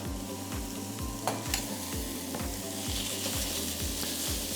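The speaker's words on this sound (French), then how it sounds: "on va faire suer les oignons, comme ceci" Yellow onions sweating gently in a pan for onion confit, giving a soft, continuous sizzle beneath steady, beat-driven background music.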